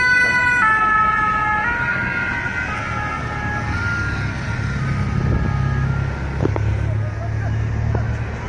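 Ambulance siren in Nice, France after a truck attack on a crowd, rising and falling wail up front before fading into the rumble of road traffic and street noise.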